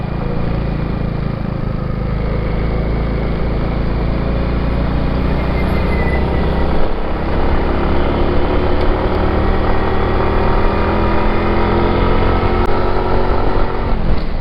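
A motorcycle engine labors up a steep scenic road near Taal in Talisay, Batangas, a loud, continuous droning growl under steady wind buffeting, with no talk.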